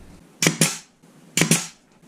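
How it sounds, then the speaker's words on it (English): Two pairs of sharp pneumatic brad nailer snaps into a wooden kitchen cabinet, each a quick double shot, close by with brief quiet gaps between them. "Taking the brad nails again"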